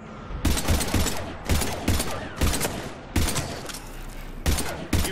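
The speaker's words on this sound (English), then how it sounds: "we're taking heavy fire" Battle gunfire in the video game Mass Effect 3: repeated heavy, booming shots and bursts crack out every half second or so over a dense, roaring background, loud and close, without talk.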